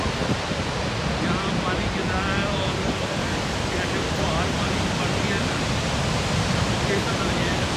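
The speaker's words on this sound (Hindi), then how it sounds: "ये अमेरिका में नागरा फॉल है और ये कैनेडियन नागरा फॉल है। यहाँ पानी गिर रहा है" Niagara Falls, on both the American and Canadian sides, pours down in a loud, unbroken roar of falling water and spray, filling the whole scene like steady rushing noise.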